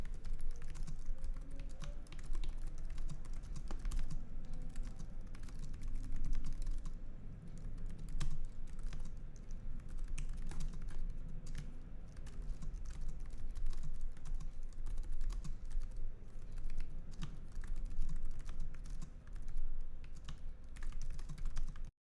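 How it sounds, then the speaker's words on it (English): Rapid, steady clicking of keys on an Acer R7 laptop keyboard, close up and continuous, with a low background hum underneath. "Here's a demo showing you the sound and touch of the keys."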